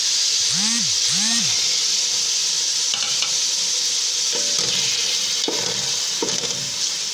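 Tomatoes go into onions and spices frying in a pan, giving a loud, continuous sizzle and hiss while a spoon stirs and scrapes, with a couple of short whistling tones early on.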